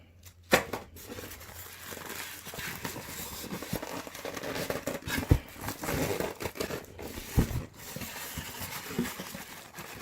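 Plastic packaging crinkles and rustles close up while a Thrustmaster HOTAS magnetic base is unboxed, in irregular bursts of crackling, tearing and handling noises with a few sharper knocks; no talking.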